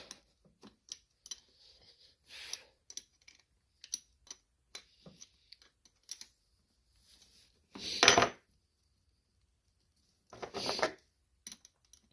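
A 12mm wrench works a tight bolt on the carburetor of a Polaris Sportsman 500 ATV, giving sparse metallic clicks, taps and a few louder scraping bursts in otherwise quiet surroundings.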